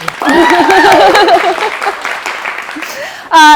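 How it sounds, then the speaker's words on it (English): An audience claps as a director is introduced at a Blackfriars theater event, a fairly loud spread of applause under a voice at first, ending in a sudden loud burst. "Clap"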